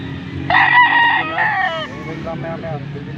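A stag rooster crows once at a busy poultry market in Angeles, Pampanga, a loud, close, drawn-out call with a broken ending, while people talk and murmur in the background.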